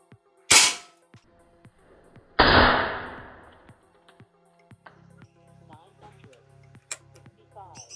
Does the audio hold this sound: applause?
no